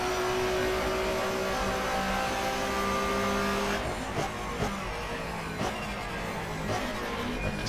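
A race car engine in GTR2, a 1994 German Touring Car Cup round at the Nurburgring, drones at steady high revs, then drops with a downshift to third gear, followed by choppy revving and lifts, close and loud with no talk.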